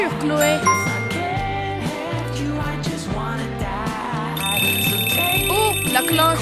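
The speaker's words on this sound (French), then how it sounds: "Oh, la cloche." A school bell rings with bright, sustained metallic tones over busy background music and sound effects, loud and continuous, growing more prominent toward the end.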